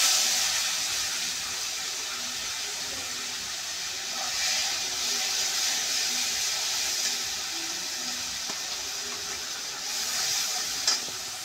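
Onion paste drops into hot oil tempered with garam masala, cardamom, cinnamon and cloves for a Bengali katla fish kalia, giving a steady, fairly loud sizzle and hiss that runs throughout with slight swells.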